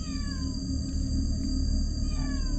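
A cat gives a drawn-out, wavering yowl outdoors in a forest at night, with a steady insect-like hum in the background.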